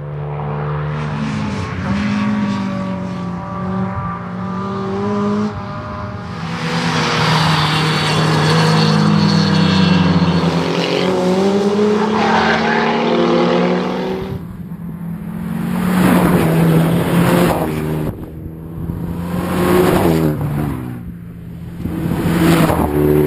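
An engine-swapped race car on a circuit roars past with a buzzing, rasping note like a First World War rotary aero engine, surging loud and fading in repeated passes with gear-change dips between.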